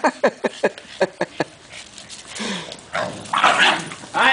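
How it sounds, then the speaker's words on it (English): Boston terriers bark sharply in a rapid series of close yaps, then shift into growls, whines and scuffling as they play-fight, loud and alone. "Dog fight."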